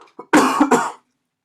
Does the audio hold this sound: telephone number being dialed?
no